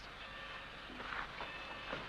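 A moving train rolls along the rails in a Western setting, a steady faint rumble with soft rattling and brief higher squeals, heard alone without talk.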